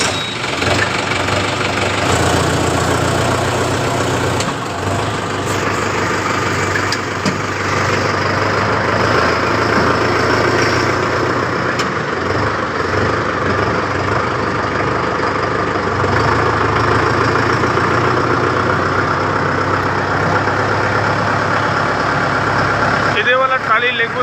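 Tractor engine idling after being started in a village farm setting, a steady loud diesel rumble running throughout with slight fluctuations, while people talk over it.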